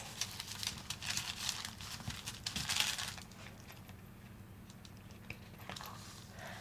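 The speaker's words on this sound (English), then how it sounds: "We fold it twice over on the sides." A beeswax food wrap being folded by hand, with close, soft crinkling and crackling in bursts that fade to quieter rustles.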